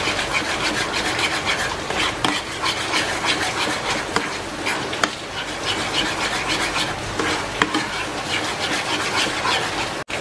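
Chicken salted egg sauce with a spoonful of oyster sauce being stirred in a pan with the heat off: a steady, busy scraping and rubbing of the spatula against the pan, continuous and fairly loud, with no voice.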